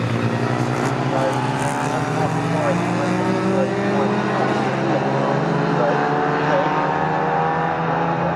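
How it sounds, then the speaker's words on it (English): MG Midgets, Sprites, BCV8s and MG As race at Snetterton circuit, their engines blending into a continuous droning roar that holds steady throughout while a commentator talks over it. "Past that group of cars now, so Ollie Wardle, then Johnny Wheeler"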